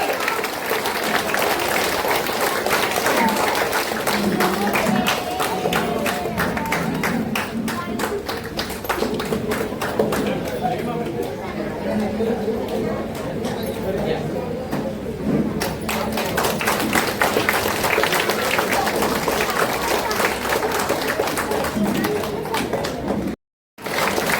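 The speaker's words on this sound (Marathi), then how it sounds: "जोरदार टाळ्या झाल्या पाहिजे." Loud applause from an audience at a public event with an eye doctor and a local councillor, sustained dense clapping with scattered voices underneath, running steadily before cutting off briefly near the end.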